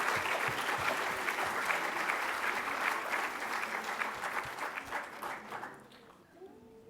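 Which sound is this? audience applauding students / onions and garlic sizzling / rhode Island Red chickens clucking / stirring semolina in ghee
audience applauding students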